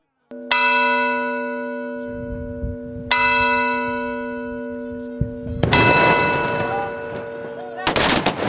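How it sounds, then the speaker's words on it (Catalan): Church tower bells ring out at noon to welcome the pine-tree festival procession, with loud, ringing strokes decaying slowly and followed by a burst of crackling bangs like firecrackers near the end. "A dalt del campanar, un grupet li donen la benvinguda a toc de les 12 campanades"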